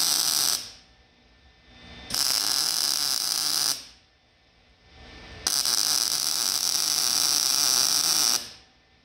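Stick arc welding along a crack in a 1948 Chevy truck frame: loud steady crackling buzz in long bursts of about one and a half to three seconds, separated by short quiet pauses.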